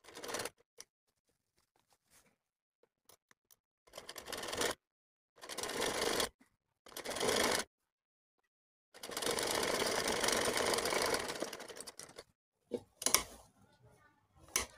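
A sewing machine stitches a suit in several short bursts of rapid, chattering stitching. The bursts are separated by quiet pauses and end with one longer run, moderately faint and close by.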